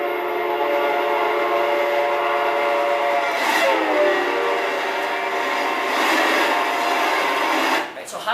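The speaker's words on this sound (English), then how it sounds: "All right, so this is going to be a train again." A train approaches and passes with its horn sounding, the pitch dropping quickly as it goes by; loud and close, with rumbling wheels throughout and a brief fade near the end.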